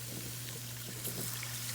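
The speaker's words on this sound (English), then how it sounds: "So I'm going to pour some water in here slowly." Water trickling and pouring slowly into a pan of flour-and-oil paste for onion gravy, a soft steady liquid wash with a constant low hum beneath, quiet and close.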